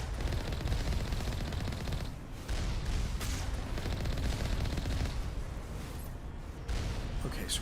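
Sustained rapid gunfire pours from the turrets in the video game Mass Effect Legendary Edition, dense and loud throughout with brief gaps between bursts, and a voice talks over it.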